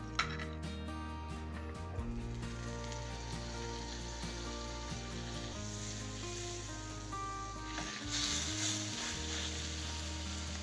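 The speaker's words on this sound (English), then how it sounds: "I'm going to add some butter and immediately add my steak to that pan." Steak seared in butter in a very hot pan, a steady loud sizzle and frying hiss running throughout with a few faint clinks and a surge of spattering near the end.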